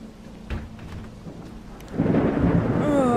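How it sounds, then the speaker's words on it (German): Thunderstorm in the horror video game Pineview Drive: a low rumble of thunder builds and swells into a heavy roar, with steady rain hissing throughout and a brief tonal sweep near the end. "Oh Mann, es gewittert wieder."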